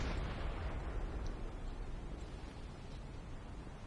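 A submarine deck gun fires in Silent Hunter 5, a loud booming blast at the start that decays into a long low rumble and rolling echo over the sea.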